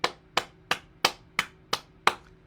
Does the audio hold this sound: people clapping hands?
yes